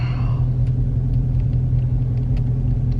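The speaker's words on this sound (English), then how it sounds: "I'm driving a big old truck." A big old truck's engine rumbles low and steady from inside the cab while driving, a constant heavy drone with no talk over it.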